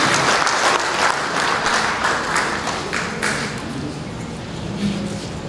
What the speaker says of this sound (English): A round of applause for the chancellor.